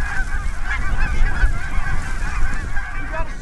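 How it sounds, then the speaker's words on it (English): A large flock of snow geese honks continuously in a dense, overlapping chorus, loud and close throughout on a hunt, with no talking. "I shot my first goose!"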